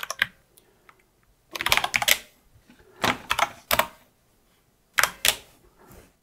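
Keys on a Blackmagic Design Speed Editor keypad click in short bursts of presses and releases, crisp plastic clatter coming in three or four separate clusters with quiet gaps between them, close to the microphone.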